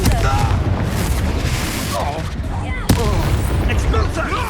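Explosive blast of the Confringo spell in Hogwarts Legacy, a sharp boom landing midway through dense, continuous combat noise of rumbling impacts and crackling effects, with voices shouting over the fight.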